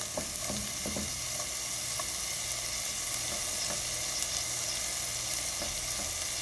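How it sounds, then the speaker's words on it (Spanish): Green chiles fry in a pot with a loud, steady sizzle, and stirring clinks and scrapes sound now and then, close up with no voices. "Solo los chiles verdes y los dejamos unos segunditos solamente que se doren un poquito."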